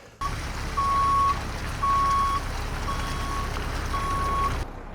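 A triaxle dump truck's reversing alarm beeps steadily, about five evenly spaced tones over a low engine rumble, moderately close.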